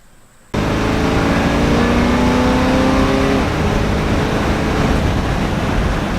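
A Ford Galaxie fitted with a Hellephant engine on aftermarket mufflers roars to life and accelerates, loud and close, a dense steady engine rumble whose tone climbs and then levels off, with no talking.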